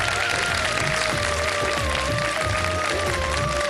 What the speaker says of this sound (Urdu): بھرپور تالیاں آپ لوگوں کی.